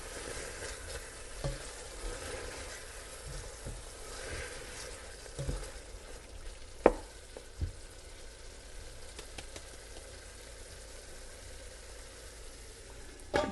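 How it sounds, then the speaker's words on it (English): Ajar masala cooking in a pan over medium heat for a spicy eggplant baingan salan, giving a steady low sizzle with a few sharp clinks and stirring knocks, fairly quiet and with no talking. "Amiji is going to add the whole ajar masala. And she's going to cook that for about 5 minutes on medium heat."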